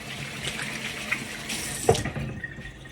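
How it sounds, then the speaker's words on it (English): Hands being washed under a running kitchen tap while cooking salmon; a steady broadband stream of water lasts throughout, with a brief clatter near the end, and no one talks. "Wash my hands real fast."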